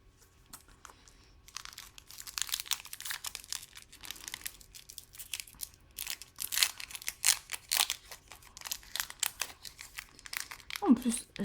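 A Pokémon card booster pack wrapper being opened: soft handling at first, then close bursts of crinkling and tearing foil, growing louder toward the end, with no one speaking.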